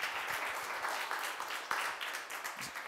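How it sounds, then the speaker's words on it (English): Applause from a conference audience: a steady wash of many hands clapping at moderate volume for about three seconds, with no voices. "Big round of applause."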